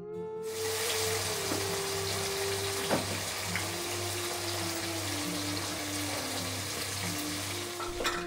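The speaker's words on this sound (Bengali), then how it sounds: "মাংসে যেরকম ফোড়ন দেয় সমস্ত কিছু ফোড়ন দিয়ে নিয়েছি, দিয়ে মাংসটাকে ভেজে নিচ্ছি" Meat frying in a pan with whole spices, a loud continuous sizzle close up, with a steady low hum underneath and a few clinks of a utensil.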